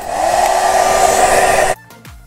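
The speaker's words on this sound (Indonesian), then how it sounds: "setelah aku keringin menggunakan hair dryer di suhu dingin" A hair dryer running on its cool setting blows a loud, steady whir close by, then switches off abruptly and leaves near silence.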